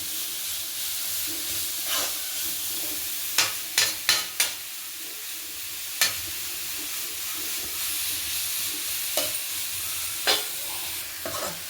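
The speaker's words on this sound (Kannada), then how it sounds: "ತುಪ್ಪ ಇವಾಗ ಆಲ್ರೆಡಿ ಇತ್ತಲ್ವಾ ಅದರಲ್ಲೇ ನಾನು ಫ್ರೈ ಮಾಡ್ಕೊಳ್ತೀನಿ" Grated carrot frying in ghee for carrot halwa: a steady sizzle and hiss with a spoon stirring, scraping and knocking against the pan in irregular clusters of sharp taps, close, with no speech.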